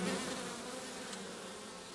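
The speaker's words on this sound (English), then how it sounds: "To Fehrenbach, it's a bee with a double-edged advantage." A steady, dense hum of Buckfast honeybees buzzing around apple, cherry, rape and raspberry forage, a continuous close swarm drone with no voices.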